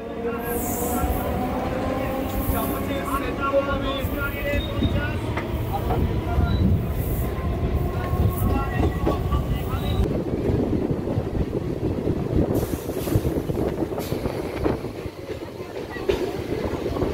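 Passenger train on the Sealdah to Krishnanagar line running steadily, a continuous rumbling roll with rattling from the carriage and a higher whine early on, with occasional voices in the background.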